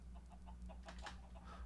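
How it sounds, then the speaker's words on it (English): Chickens in the Minecraft FTB OceanBlock modpack cluck in short, soft repeated calls over a steady low game hum, a few clucks spaced through the moment with no talk. "Chickens are pushing me around a bit."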